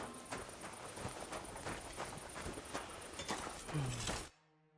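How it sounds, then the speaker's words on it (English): Horse hooves clip-clopping in Kingdom Come: Deliverance II, a steady run of soft hoofbeats over ambient noise that cuts off abruptly near the end. "What a beautiful horse."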